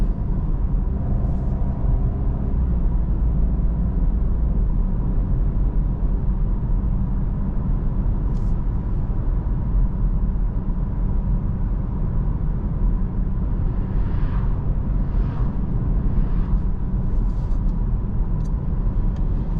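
A 2023 Peugeot 408 with the 1.2 PureTech 130 HP engine driving on an open road, heard from inside the cabin: steady low engine drone and road rumble, loud and continuous throughout, with no talking.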